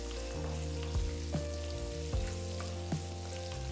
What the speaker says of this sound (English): Now saute all these ingredients for about 3 minutes.